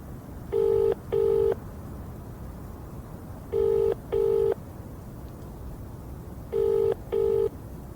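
Telephone keypad dialing tones on a borrowed mobile phone: three pairs of short, clean beeps spaced a few seconds apart over a steady low background hum, with no talking.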